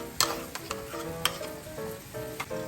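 Crushed garlic sizzles as it hits a tomato sauce in a frying pan: a steady close hiss broken by sharp clinks and scrapes of stirring.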